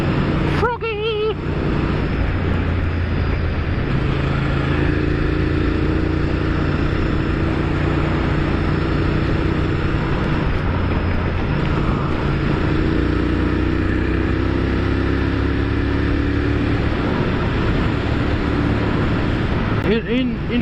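A Honda Firestorm motorcycle engine drones steadily while riding, a continuous low rumble with shifting pitch and wind noise throughout.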